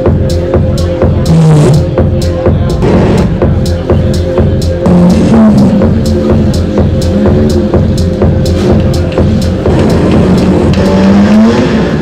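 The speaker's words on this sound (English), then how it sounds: "the most glorious sports racing car ever to come from England, the 1955 Jaguar D Type" A 1955 Jaguar D Type sports racing car engine runs loud and close, its steady low rumble continuous throughout, with a regular ticking pulse and occasional rising revs over it.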